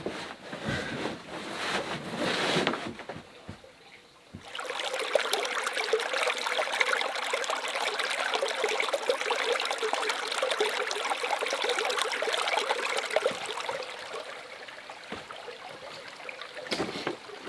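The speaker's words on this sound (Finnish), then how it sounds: "Ihan pieni virta vaan menee vettä." A thin stream of water trickles and babbles through the nearly dry Suutarilankoski rapids beside a lean-to shelter, a steady close bright gurgle, interrupted early by some handling noise.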